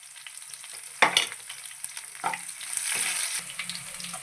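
Chana dal, garlic and dry red chilies fry in hot oil in a pan, a steady sizzle broken by a few sharp stirring scrapes and crackles, close and clear with no voices.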